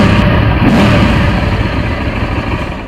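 A Keeway Benda 252C V-twin cruiser motorcycle engine revs close by, a loud continuous throaty roar that swells and then eases off, with no talking.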